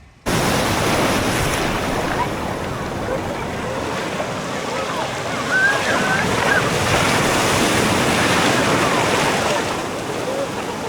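Sea waves break and wash along the shore in a continuous roaring surge, with rolling swells and heavy wind buffeting the microphone close up; no one speaks.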